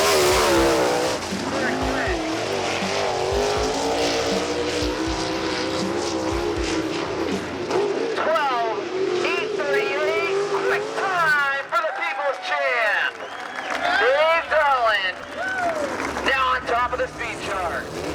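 Dave Darland's sprint car on a qualifying run at a 2011 Indiana Sprint Week race, its engine roaring loud and near with rising and falling revs as it laps, under an announcer talking over the track.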